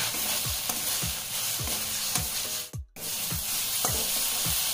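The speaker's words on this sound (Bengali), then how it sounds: "যতক্ষণ না জল পুরোপুরি শুকিয়ে যাচ্ছে ততক্ষণ ধরে পাতাগুলোকে কষিয়ে নিতে" Wet coriander leaves (dhania) sizzle in a hot pan with a steady hiss. A spatula scrapes rhythmically about once every half second, and one short gap of near silence falls midway.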